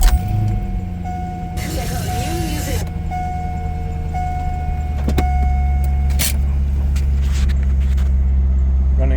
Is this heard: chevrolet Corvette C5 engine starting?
yes